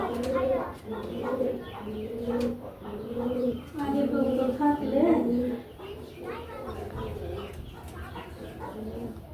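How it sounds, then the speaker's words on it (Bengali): Pigeons coo in low, rolling bursts close by, several calls overlapping in waves, with other bird and fowl sounds mixed in. "এই তো উপরে কিছু কবুতর আছে, এখানে বাচ্চাও আছে"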